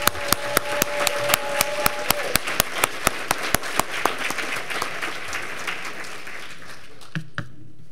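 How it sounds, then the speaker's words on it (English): A luncheon audience applauds scholarship winners with dense, steady clapping and a few sharp, louder claps punctuating it, fading out toward the end. "So one more round of applause for all of our scholarship winners."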